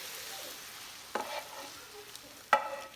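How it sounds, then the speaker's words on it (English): Buffalo chicken chili ingredients are stirred in a crock pot, two distinct scraping, clattering strokes of a spoon over a quiet background, no talk. "So I really am just gonna stir this up."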